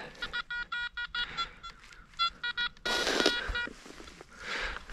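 A metal detector sweeping a forest track gives a tonal signal leaning toward iron: choppy repeated beeping bursts, then a louder, noisier rushing stretch as the coil passes over the ground.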